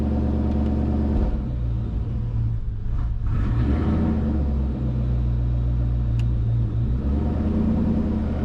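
A Mustang engine fitted with Holley EFI Terminator fuel injection idles steadily on a dyno, a loud, even low rumble that holds throughout with a brief dip in the middle.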